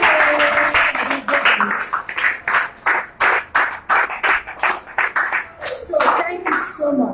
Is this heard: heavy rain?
no